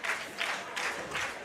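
A wrestling crowd at an independent show cheers and claps in steady swelling waves, loud and close, rising and falling roughly every third of a second without any voices breaking through.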